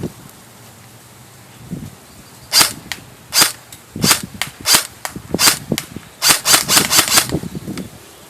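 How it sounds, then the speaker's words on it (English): An airsoft gun on a 9.6 volt battery with 0.2 gram BBs fires single shots at a cardboard target, making sharp snapping cracks that start sparse and then come in quicker irregular bursts, close and loud against faint background noise. "I'm going to do single fire and then auto"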